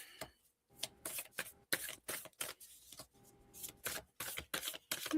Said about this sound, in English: Cards are just flying out today.